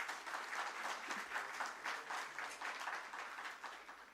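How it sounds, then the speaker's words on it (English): Applause at a stock exchange listing ceremony for an infrastructure investment trust, a faint but steady crowd clapping sustained throughout. "A round of applause for that."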